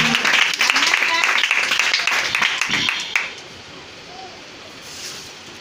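A church congregation bursts into applause, a dense round of many hands clapping for about three seconds before it breaks off into near quiet.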